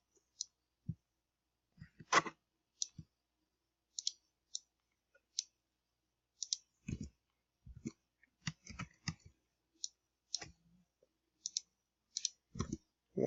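Sharp, quiet computer mouse clicks ring out one at a time and in small clusters at irregular intervals against near silence while an Inkscape drawing is made.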